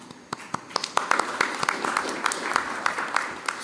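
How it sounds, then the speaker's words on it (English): An audience at a panel event on a loss and damage fund applauds, a mix of sharp close claps over a softer crowd clapping that holds steady throughout. "So a round of applause for them."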